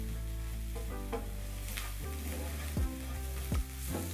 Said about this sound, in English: Next, I'm going to add my remaining crushed garlic and ginger. Stir. Then I'll cook until soft.